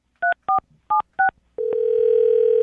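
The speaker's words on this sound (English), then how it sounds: "I'm going to dial her phone number right now" Four short, evenly paced touch-tone beeps as a telephone number is dialed, a brief pause, then a steady continuous ringback or dial tone holding to the end.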